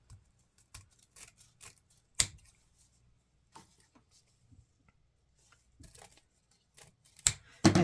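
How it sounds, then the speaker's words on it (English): Crisp snips of scissors cutting lengthwise through wreath ribbon, scattered sharp clicks and slices with quiet pauses between, close and clear. "Run your scissors right up through the middle."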